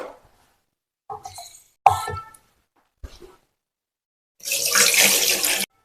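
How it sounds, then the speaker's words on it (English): A few short clinks and knocks, then a steady rush of tap water pouring into a plastic sitz bath tub for about a second, fairly close. "Now I'm going to put water in this to show you how it actually works"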